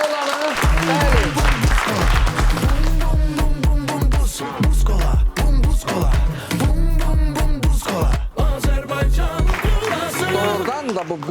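A live studio audience applauds at a comedy talk show, a sustained burst of clapping heard close, with a host's voice speaking over it.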